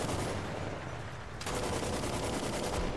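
Tank machine gun in a video game firing a steady, rapid stream of rounds, a continuous rhythmic rattle that starts abruptly and stays loud over a low rumbling background.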